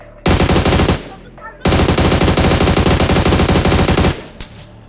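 Loud automatic gunfire sprayed in BGMI PUBG Mobile, with a short rapid burst, a brief pause, then a longer sustained stream of dense shots close up, ending in a faint echo.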